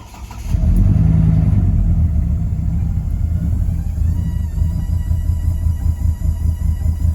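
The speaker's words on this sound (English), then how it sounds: "it has developed this really strange misfire" An LS-swapped Chevy Colorado truck engine idles with a loud, uneven rumble from a strange misfire, its low pulsing roar steady and close throughout.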